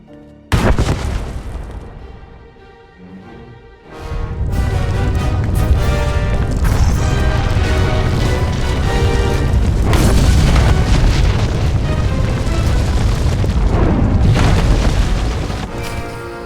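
A loud explosion booms out in the video game Star Wars: The Old Republic, a sharp blast followed by a long, heavy rumbling roar that stays powerful for many seconds before slowly easing.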